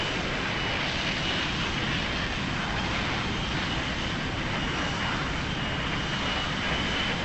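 An F-15C jet engine throttles back in the flight simulator game Lock On, giving a steady, dense roar that holds at a constant level throughout, without talking.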